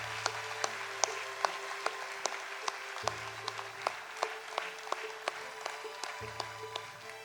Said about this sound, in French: Je vais vous demander donc déjà d'applaudir encore une fois tous ces talents qui nous attendent ici